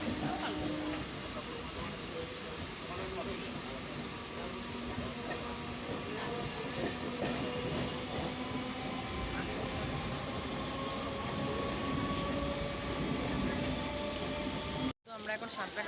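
A local train on the Howrah to Santragachi line running along the track, heard from inside as a steady loud rumble with sustained hum and rattling throughout, then a brief dropout at the very end.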